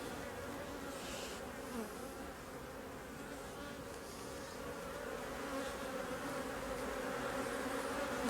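Bees buzz steadily around a hive during a late-season hive visit, a dense, continuous hum that holds at an even level throughout with no voices.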